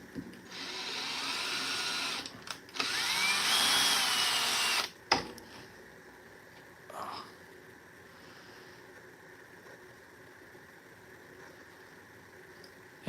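A power drill grinds out solid, hardened epoxy in two loud, sustained bursts, one about two seconds and a longer one of about two and a half seconds, followed by near quiet with a faint clunk.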